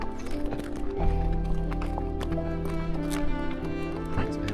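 A horse walks along a dirt path near Tunkhel, Mongolia, its hooves thudding and clopping close by in an uneven rhythm, with a brief stumble and faint background sounds around it.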